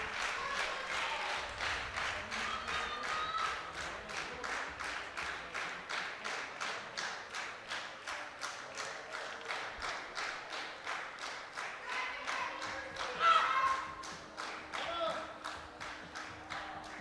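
Crowd applauding and cheering at a European equipped powerlifting championship during a junior deadlift record attempt, with steady rhythmic clapping throughout and a brief louder burst near the end, with voices mixed in.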